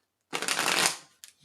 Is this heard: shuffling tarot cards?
yes